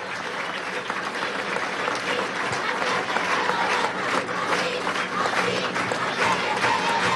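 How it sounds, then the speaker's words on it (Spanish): A crowd at a Venezuelan public housing handover event applauds a general, with steady clapping and cheering mixed with background voices, moderately distant. "Quiero pedir un aplauso para este compañero, General Manuel Quevedo,"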